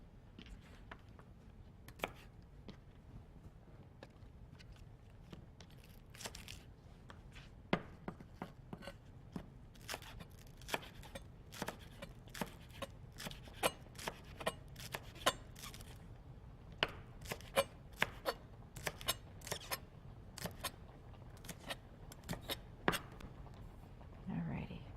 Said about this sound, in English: I'll get to work on chopping up my scallion